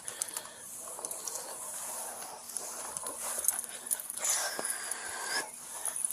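A blind dog whimpers and breathes heavily up close, soft high whines and wheezy panting repeating quietly over a few seconds, with faint handling noises.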